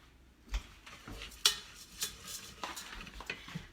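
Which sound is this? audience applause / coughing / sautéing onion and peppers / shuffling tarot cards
sautéing onion and peppers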